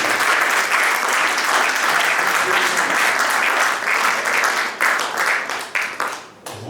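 A church congregation at a seminar in Belgium breaks into loud, sustained applause, many hands clapping together steadily before the sound thins out and fades near the end.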